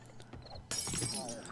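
Glass shatters in the survival game 7 Days to Die: a sudden bright crash breaks in after quiet, then scattering fragments tinkle and ring out briefly, fairly close, with faint voices nearby.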